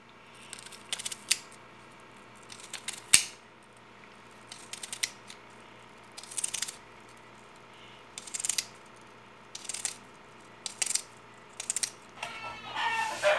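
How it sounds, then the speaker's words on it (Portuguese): A knife cuts an onion on a board in a kitchen, with a series of close, sharp chopping strikes spaced a second or two apart, quiet in between, no talking. "Tô cortando aqui a cebola,"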